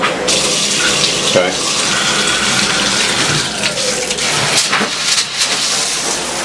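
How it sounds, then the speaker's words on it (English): Water gushes steadily from a Delta In2ition dual-head shower at good pressure, a continuous close hiss with small splashy shifts, while a person briefly speaks over it. "Alright, just go ahead and turn the water on."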